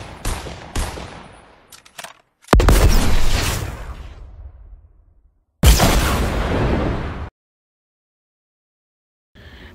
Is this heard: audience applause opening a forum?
no